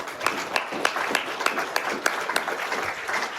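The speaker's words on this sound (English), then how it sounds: "You can clap for that." Steady applause fills a conference hall at an AA gathering in Bermuda, dense crowd clapping with sharper individual claps popping through at a fairly even rhythm, sustained and moderately loud throughout.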